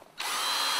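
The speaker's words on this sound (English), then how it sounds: "Then back in with a drill, just to create" A power drill is switched on to mix carp bait and whip air into it, rising almost at once to a loud, steady, high whir close by that holds without a break.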